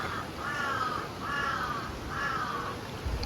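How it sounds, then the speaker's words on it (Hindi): A crow cawing three times in a steady rhythm, harsh calls at moderate distance over quiet outdoor background noise in the Naran area of northern Pakistan. "यही कौवे की आवाज़ ना उधर नहीं आती।"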